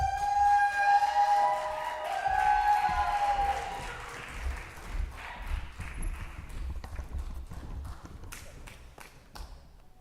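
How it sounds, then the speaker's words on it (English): An audience at a Naval Academy versus Georgetown debate claps for the winning team. The clapping is fuller at the start over some tonal sound, then dwindles to scattered individual claps. "a round of applause to the winning team again"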